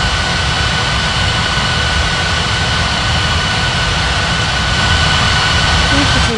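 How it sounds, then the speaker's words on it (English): Jet airliner engines roar steadily through a takeoff at Bali airport in an air traffic control video game, a loud continuous broadband rush with a faint whine that holds level to the end. "Cleared for takeoff on 27, Turkish 7827."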